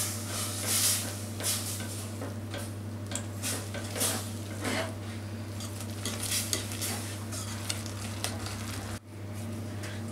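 A wooden spoon stirs flour into choux pastry dough in a pot, giving a steady scraping, rustling texture with light clatter against the pot, close and continuous with a constant low hum underneath.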